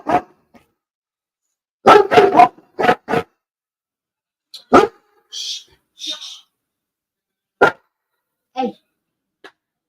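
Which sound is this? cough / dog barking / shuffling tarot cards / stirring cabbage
dog barking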